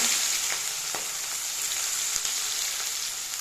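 Onions fry over low heat in hot oil with chilli and sugar for mutton kosha, giving a loud, continuous sizzle close up with a few faint stirring ticks and no voices.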